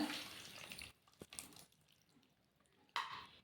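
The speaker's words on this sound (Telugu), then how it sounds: "ఇప్పుడు చింతపండు నీళ్ళు వేస్తా" Tamarind water poured into a pan while cooking oil brinjal curry, a faint liquid splash with brief clinks of the pan, fading into quiet before a short second pour near the end.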